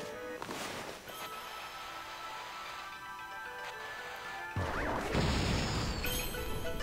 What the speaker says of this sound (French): Effectivement, c'est une bombe.